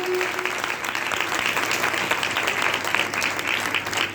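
A congregation at a Christmas church celebration claps loudly and steadily, a dense, sustained wash of applause from many hands with no pauses.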